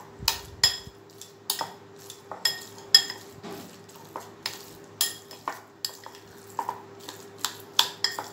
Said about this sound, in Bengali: ভাতটাকে আমি একটু চামচে করে একটু চটকে নিচ্ছি।